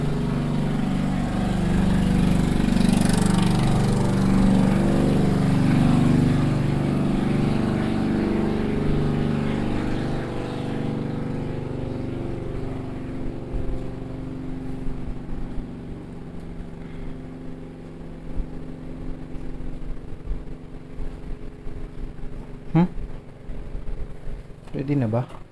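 A motorboat engine drones steadily nearby on the water, loud at first and then fading as it passes, with a voice talking over it.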